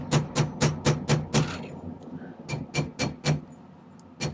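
A silver ring is hammered on a metal mandrel with sharp, ringing taps, six in quick succession, a short pause, then five more, close and clear.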